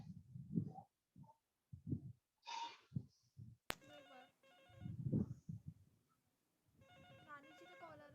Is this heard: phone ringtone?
yes